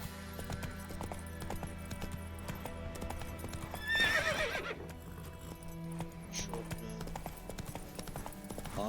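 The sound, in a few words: horse hooves and neighing while riding Roach, from The Witcher 3 video game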